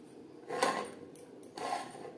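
A metal lid set down on a pot of rice and potatoes boiling on a low gas flame, giving two brief clattering contacts about a second apart, close and moderately loud with no talk.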